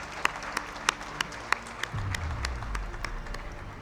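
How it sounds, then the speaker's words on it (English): Audience at an official launch event applauds a speaker, starting as sparse separate claps and swelling after a couple of seconds into a fuller, rumbling round of clapping heard from within the hall. "give her a resounding round of applause this morning"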